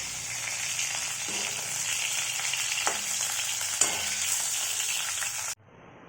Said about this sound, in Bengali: এখন আমি আমাদের জন্য ভোলা মাছটা ভেজে নিচ্ছি